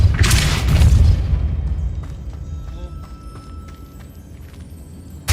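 The Depulso spell is cast in Hogwarts Legacy, giving a loud, booming blast up front that rumbles and fades into quieter game ambience with small clicks. Speech is faint, and a sharp hit lands at the very end.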